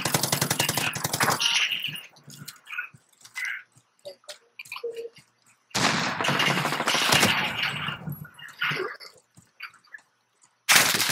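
Bursts of automatic gunfire from a Call of Duty match played with a PP19 submachine gun, loud rapid volleys separated by short gaps and clicks, with a player's voice talking between the shots.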